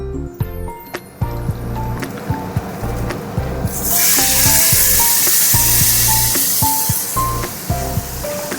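Water being poured into a pot of fried rice pilaf with potato and egg, a loud hissing, sizzling rush starting partway through, with clinks and taps of utensils throughout.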